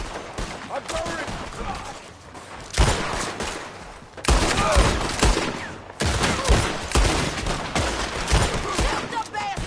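Gunfire crackles in a Wild West shootout from a Red Dead Redemption 2 action game, with loud bursts of rapid shots in clusters and brief lulls between volleys.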